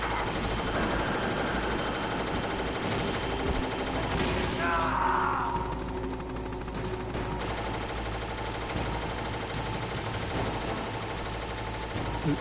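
Bursts of automatic gunfire and shots from the video game Metal Gear Solid, dense and continuous over a rumbling game soundscape with a helicopter in the fight, while a player talks over it.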